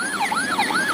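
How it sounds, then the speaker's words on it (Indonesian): A toy ambulance siren wails in rapid rising and falling sweeps, a loud, close electronic warble repeating about three times within a second, with no voices over it. "Wah, sepertinya ini adalah mobil ambulan teman-teman."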